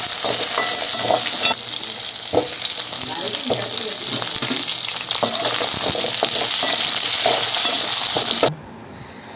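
Tomatoes, shallots and dried red chillies sautéing in oil for chutney, giving a loud, continuous close sizzle with scattered pops and stirring clicks, cutting off near the end.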